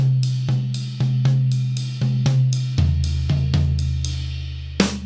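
Drum toms and a deeper floor tom struck in a steady hand pattern, booming hits ringing into each other, close and unaccompanied.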